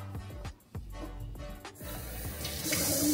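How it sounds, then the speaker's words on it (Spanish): Tap water filling a squeezable toy, beginning with a few knocks and handling thumps before a steady hissing stream rises and grows louder toward the end. "Vamos a llenar esto de agua."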